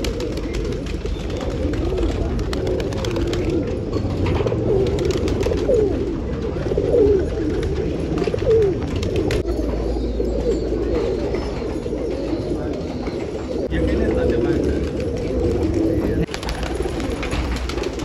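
Desi pigeons coo steadily at a loft in Nashik Road, Maharashtra, with several birds overlapping in a soft, continuous low murmur against constant background noise.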